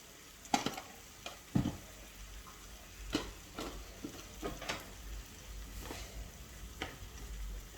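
Pork pappardelle being stirred in a pan, with soft scraping strokes and intermittent clinks over a low, steady sizzle, close and fairly quiet throughout.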